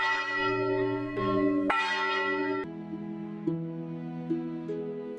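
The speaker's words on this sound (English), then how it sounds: "Bells mark time here, not deadlines, just progression." Church bells ringing along the Camino de Santiago in Spain, several overlapping tolls with long ringing tones, fresh strikes every second or so, moderately distant and heard alone.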